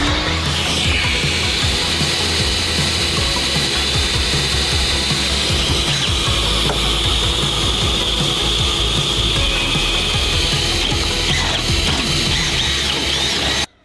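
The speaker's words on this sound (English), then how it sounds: "we have to drill mounting holes into the aluminum beam back here" Loud, continuous power-drill whine boring holes through an aluminum beam in a Porsche 718 Cayman, steady and close for the full length, with a harsh high-pitched edge and rattling underneath.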